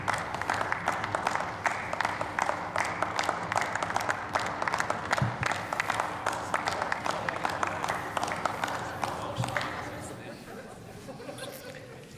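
Applause in the German Bundestag chamber, a dense sustained clatter of many hands that holds steady, then fades and thins toward the end, with a voice speaking over it.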